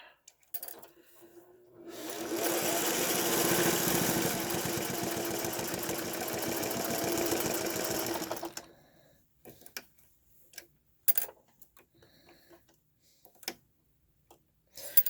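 A sewing machine stitching around a fabric face mask along the original seam runs in a steady, fast, close mechanical chatter for about six seconds, then stops, leaving scattered small taps and clicks.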